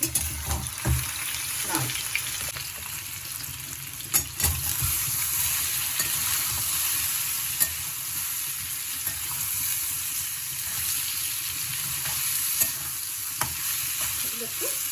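Ridge gourd sizzles loudly in a pan for a sustained stretch, with spatula stirs and scrapes breaking in at irregular moments over the continuous frying hiss.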